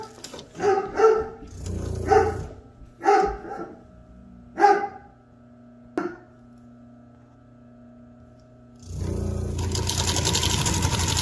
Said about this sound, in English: I did have trouble sewing Velcro on my 20U33. It just doesn't have enough strength, but this machine just powers through the